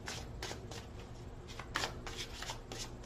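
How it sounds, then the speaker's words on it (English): Tarot cards being shuffled by hand, a series of quick papery riffles and flicks repeating in a loose rhythm, soft and close. "One more shuffle."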